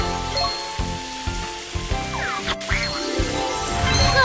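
Cartoon ducks quack several times in the BabyBus Baby Panda's Carnival Christmas amusement park video game, short bright calls over a steady hiss of spraying water from a hose and light game music.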